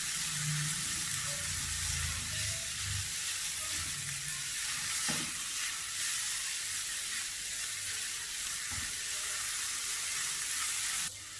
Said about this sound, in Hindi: इसको मज़ीद 3 मिनट्स के लिए फ्राई करेंगे।